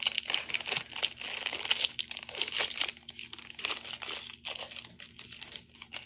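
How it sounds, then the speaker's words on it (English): A fountain pen, a Mr. Cypress raden pen, being unwrapped from crinkly plastic packaging, with close, quiet crackling and rustling in irregular bursts that keep going throughout. "let's take it out of the packaging first"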